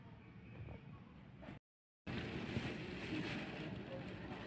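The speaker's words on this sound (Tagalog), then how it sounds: "Grabe na yung hangin. Nandito na yung typhoon." Strong, gusty typhoon wind roars steadily into the microphone, broken by a brief moment of silence before the blustering returns.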